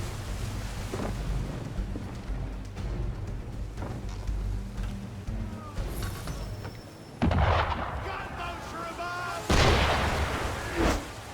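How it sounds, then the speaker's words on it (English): Ship cannons firing on a small boat in Assassin's Creed 3, heavy booming blasts rolling under a continuous low rumble, with sharper, louder impacts near the end and splashing water, no voices. "Why is he shooting at us?"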